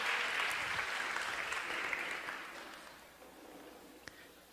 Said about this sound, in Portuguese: Vamos aplaudir a Jesus que falou conosco nessa noite